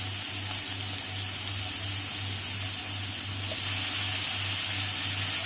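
Potatoes and long beans sizzling steadily in hot oil with panch phoron and green chilli in a frying pan, a constant close hiss that runs unbroken throughout with no talk.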